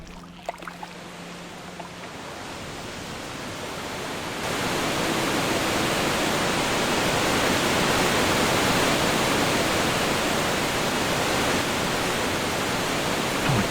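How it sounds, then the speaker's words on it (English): A loud waterfall in the video game Gothic 2 roars as a dense, steady rush of water. It starts quieter, swells sharply after a few seconds and then holds at full force, with a few faint clicks early on and no talk. "Oh my god, that waterfall's so damn loud"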